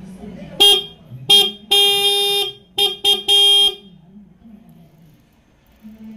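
A motorcycle fitted with two horns honks in a series of bright, loud toots, short bursts then a longer blast, close by against faint background noise.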